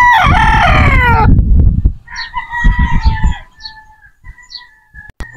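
A Boston Roundhead brood stag crows once at close range, starting loud and trailing off. Clucks and chirps from other fowl follow, along with faint background farmyard sounds.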